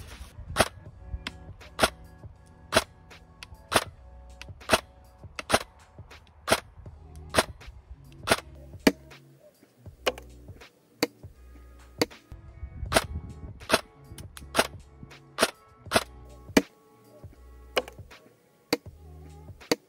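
Cheap airsoft replica gun fires a steady series of sharp, snappy shots at a target, roughly one or two per second for the whole stretch, close and clear over a quiet background.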